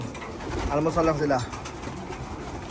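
Racing pigeons coo softly in a loft, a few low burbling calls close by while a person talks over them.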